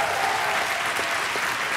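A concert audience gives the performing bands a brief burst of dense, loud applause that stays even throughout.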